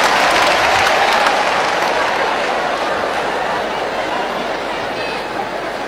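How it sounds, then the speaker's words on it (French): A crowd claps and cheers loudly in dense, continuous applause that slowly tapers, with faint voices mixed in. "Applaudissez pour la famille DJ"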